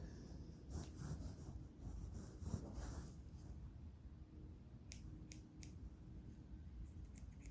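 A few quiet scissor snips cutting ribbon in two short clusters, crisp little cuts close by with a low background hum.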